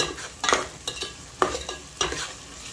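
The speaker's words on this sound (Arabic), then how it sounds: "اقلب البصل قليل حتى يذبل معانا تمام" Finely chopped onion and whole spices are stirred in a frying pan for Hadrami rice: four or five distinct scraping strokes close by over a soft, continuous sizzle, with no talking.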